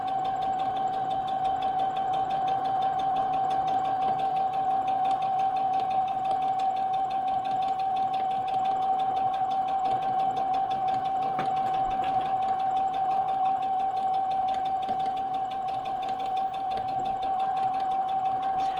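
A sewing machine with a freshly changed needle stitches fabric for comfy pants, running at a steady, even hum with a fast, constant mechanical whir that goes on unbroken for nearly twenty seconds, close and clear with no talking.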